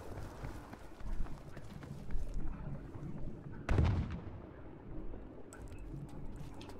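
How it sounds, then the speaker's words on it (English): Flak anti-aircraft guns fire in Battlefield 5 multiplayer, a heavy low burst thudding once near the middle amid dense battlefield rumble, scattered distant shots and crackle, with brief background voice activity. "These are flak, man."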